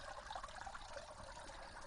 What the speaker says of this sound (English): So that's the water coming through the pump hose at the top